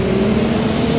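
A car engine in Roblox Driving Empire revs in a loud, steady drone with a sustained mid-pitched tone throughout the brief moment.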